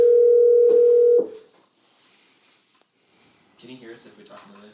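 A telephone ringback tone during an outgoing call, a loud steady electronic hum lasting about a second before cutting off, followed by quiet line noise and then faint talking.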